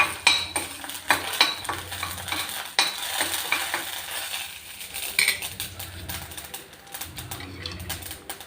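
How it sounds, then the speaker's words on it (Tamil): Mustard seeds and urad dal splutter in hot oil in a pan, giving rapid crackling pops mixed with sizzling and clattering stirring of a utensil against the pan. "கடுகு, உளுத்தம்பருப்பு பொரிய விட்டுட்டு"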